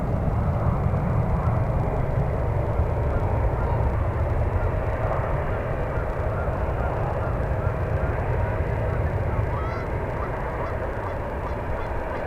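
A jet airliner roars steadily and loudly at San Francisco International Airport, a continuous broadband engine rumble filling the whole stretch with no pauses.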